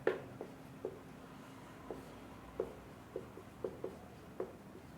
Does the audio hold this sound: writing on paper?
yes